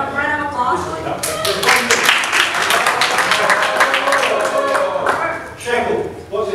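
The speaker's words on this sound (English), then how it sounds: "Please give them a round of applause." Applause from an audience at a Bitcoin Cash Q&A event swells quickly and stays loud for several seconds, then fades. Voices can be heard around the clapping.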